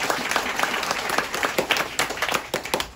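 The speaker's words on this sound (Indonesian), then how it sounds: "Mari tepuk tangan kita semua dulu." Congregation applause at the inauguration of a new church in the Arfak Mountains, brisk overlapping claps from a crowd with sharp individual hits standing out, close and steady throughout.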